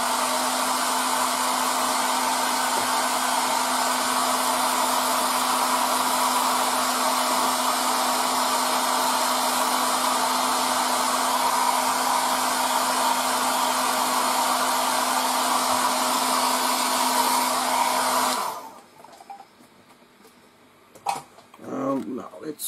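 A hair dryer blows steadily on the sides of a 1:72 scale model tank, a loud continuous whooshing hum that cuts off near the end, followed by a few faint clicks and handling sounds.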